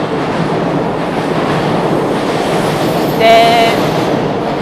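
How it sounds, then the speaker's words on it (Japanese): A Chuo Rapid Service commuter train rushes past with a steady, loud rumble of wheels and motors, and a brief high tonal squeal or whistle rises near the end. "この中央特快が通り過ぎていくのを見るのが楽しみだった。"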